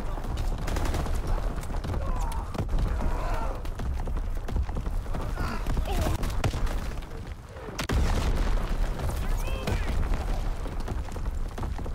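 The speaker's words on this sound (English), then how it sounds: "Incoming enemy artillery." Sustained battle din from an enemy artillery strike in Call of Duty WW2 multiplayer, dense rumbling blasts and gunfire rolling on for the whole stretch, with a brief dip before the barrage surges back, loud and close.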